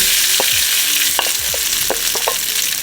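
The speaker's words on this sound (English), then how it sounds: "So we get our pan nice and hot, y'all. We're gonna add some oil. Then we're gonna add our beef." Beef sizzles steadily in a hot oiled pan, with a utensil scraping and stirring in several distinct strokes over a continuous frying hiss and no talking.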